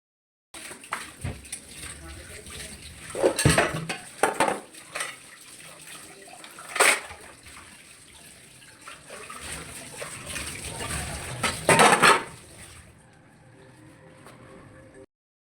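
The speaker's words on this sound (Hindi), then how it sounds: "जब जब मैं बर्तन वॉश करती हूँ ना, तब इससे भी अच्छे से जो है ना मैं वॉश कर लेती हूँ" Dishes being washed in a kitchen sink, with running water, occasional clinks of pots and cutlery, and a few louder clatters through a steady wet background.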